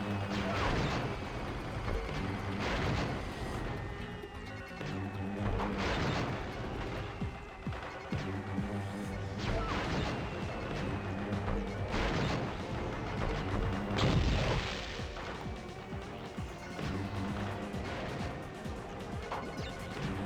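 Shooting in the PS2 game Crash Bandicoot: The Wrath of Cortex, a series of loud blasts and crashing impacts every second or two over steady game music, with no talk.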